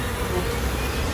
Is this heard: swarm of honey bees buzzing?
yes